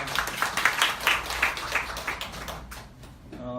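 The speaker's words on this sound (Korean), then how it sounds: "하나님께 영광의 박수를 드리겠습니다" A church congregation claps in a brisk, roughly even rhythm of sharp claps, fairly close, with the clapping thinning out toward the end.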